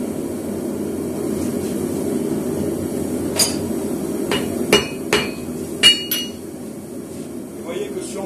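A hammer strikes a hot steel block during forge welding with borax, heard as several sharp metallic clinks over a steady low roar of the forge.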